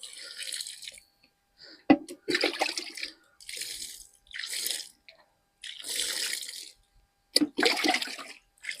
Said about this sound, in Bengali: এখানে গাছের গোড়াটাতে জল দাও।